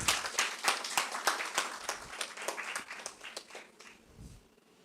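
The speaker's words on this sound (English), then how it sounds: "Can I have a huge round of applause, guys?" An audience at an inter-college startup event applauds as a professor is invited on stage. The clapping comes in a loose patter of separate claps that thins and fades out over a few seconds.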